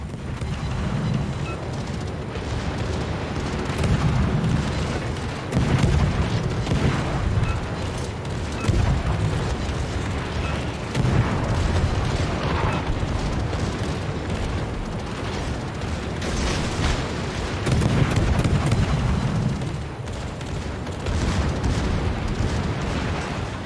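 In World of Warships, a battleship explodes and sinks amid continuous deep rumbling, with repeated booming blasts and grinding mechanical noise rolling steadily throughout.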